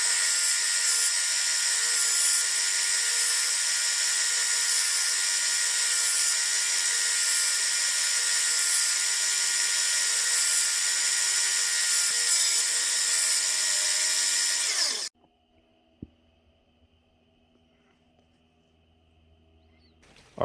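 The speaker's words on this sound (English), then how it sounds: "I'm only gonna sharpen just a little edge right now" A power tool grinds and sharpens a small edge on a handmade replica of Daryl Dixon's knife, a steady loud high-pitched whine that runs without a break for about fifteen seconds and then cuts off into near silence.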